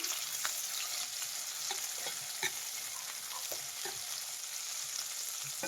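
Two medium tomatoes fry in a pan for a chicken gravy, giving a steady close sizzle with occasional stirring clicks and scrapes throughout, no voices.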